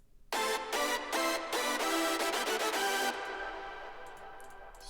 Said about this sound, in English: The first layer sounds like this.